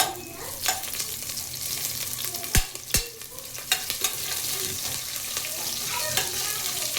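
A large onion with seasoning seeds frying in a pan for donkakai fry, a steady sizzle broken by a few sharp clatters of a spatula against the pan.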